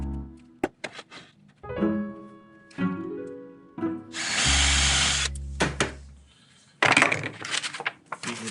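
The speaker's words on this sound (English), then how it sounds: "Switch out our drill bits to the 3/16 and we'll drill those other two holes, the one for the pickup wire and the one for the tuning machine." A drill with a 3/16 bit bores holes in a wooden one-string electric guitar body, starting with clicks and thunks before a loud whirring burst of about two seconds and a second rough burst, close by.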